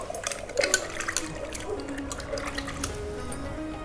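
Onions being washed by hand in water, with a steady wash of running or splashing water and small sloshing sounds up close, no voices.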